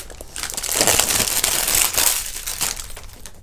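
Crinkly wrapping being peeled and crumpled off a Club de Nuit Intense EDP limited edition perfume box, close and continuous with several louder rustling bursts.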